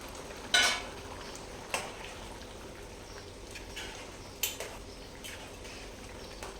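Chicken curry made with green masala simmers in a pot on the stove, a quiet bubbling hiss with a few sharp clinks of a spoon against the pot, no talking.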